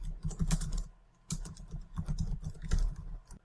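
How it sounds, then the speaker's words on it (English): Quick bursts of keystrokes on a computer keyboard come in short clustered runs with brief pauses between them, close and fairly quiet. "I'll just type in something to start this out"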